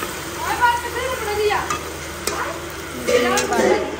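Potatoes, onions, peas and tomatoes sizzling and frying in a pan while being stirred, with steady crackling and scraping strokes at close range and no talking.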